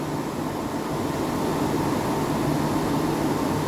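The condenser fan of an air conditioner runs steadily nearby, giving an even, broadband whooshing hum with no change over the few seconds.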